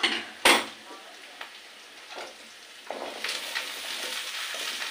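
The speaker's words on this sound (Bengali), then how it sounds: "এবারে শাকটা দিয়ে দেবো।" Leafy greens go into a cooking pan with a sharp metallic clank of a utensil, followed by quieter scraping and stirring that builds into a soft, steady sizzle.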